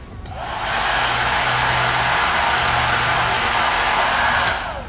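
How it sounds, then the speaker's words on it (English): A pet grooming tool's blow dryer runs as a steady, loud broadband whoosh for about four seconds, spinning up at the start and cutting off near the end, with no one talking. "once I turn on the blow dryer option, they'll freak out because they don't like the noise"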